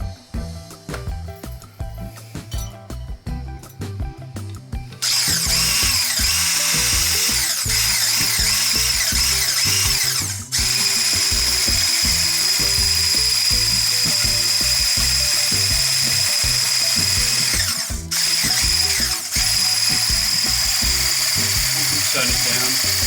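An ACEKOOL 5-in-1 blender runs with its whisk attachment, first stuttering in short bursts, then holding a loud, steady high-pitched motor whine with two brief dropouts. A voice speaks near the start.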